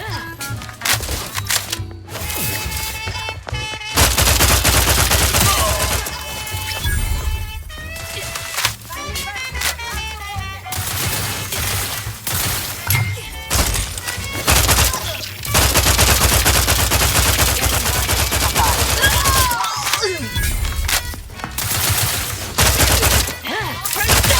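Rapid automatic gunfire bursts and sharp shots in the video game The Outer Worlds 2, loud and near, repeating in dense volleys over several stretches, with a synthetic voice speaking between some bursts.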